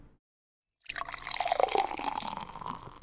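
Water poured into a glass, a steady close liquid trickle with light splashing that starts abruptly after a short silence and runs on without talk.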